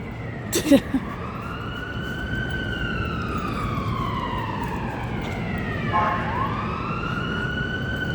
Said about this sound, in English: If you don't hear a siren every hour in Uptown, something ain't happening.